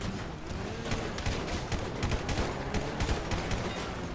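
Rapid, dense gunfire from practice shooting during a zombie war mode in GTA V: loud, continuous bursts and overlapping shots with no pauses across the whole stretch.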